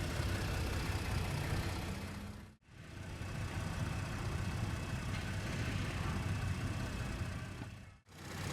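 A 2017 Ford Expedition EL Platinum's 3.5-liter twin-turbo V6 runs at a steady idle, a close, even low rumble with two brief dips where the sound cuts out.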